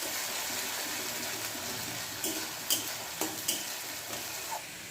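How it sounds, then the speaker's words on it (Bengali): Spice masala with salt and Kashmiri chili powder sautés in a pan, a continuous oily sizzle with several spatula scrapes and taps against the pan in the second half. "এবার মশলার সাথে সব কিছু ভালো করে মিক্স করে নিয়ে কিছুক্ষণ ধরে মশলাটা কষিয়ে নিচ্ছি"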